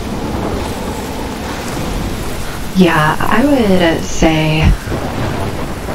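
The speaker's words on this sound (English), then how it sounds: "never seen a storm like this" A thunderstorm in the Life is Strange game rumbles with steady heavy rain hiss and low thunder throughout, while a person talks over it in the middle stretch.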